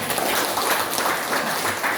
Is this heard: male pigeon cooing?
no